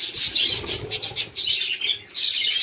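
Many birds in an aviary chirp and tweet together in a dense, continuous chorus, close and fairly loud, with some wing flutter.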